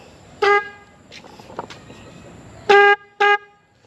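A HELLA horn fitted to a CFMOTO 450CL-C motorcycle sounds in three loud, bright honks: one short blast, then a longer one and a quick final toot after a pause, with quiet background between them.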